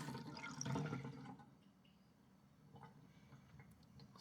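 Water runs and drains during a job clearing a drain with a Ryobi One+ hybrid drain auger: a faint gurgling splash at first, then quieter trickling and occasional drips, with no talking.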